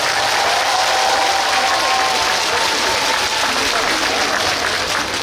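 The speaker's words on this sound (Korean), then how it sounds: "관계자분들한테 뜨거운 박수 한 번 더 부탁드리겠습니다" Sustained applause from a crowd fills the space, a dense, even clatter of many hands clapping without pause.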